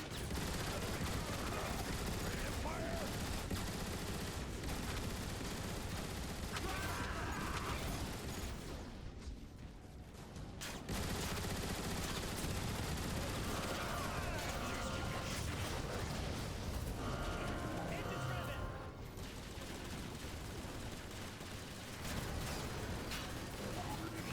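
Rapid turret weapon fire in the video game Transformers: War for Cybertron, a dense continuous barrage of shots and mechanical clatter that runs nearly throughout, briefly easing midway before resuming loud.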